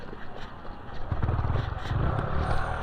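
A Suzuki Gixxer SF 155 motorcycle engine catches after a push start, a low rumbling idle building and holding steady near the microphone, with faint background noise.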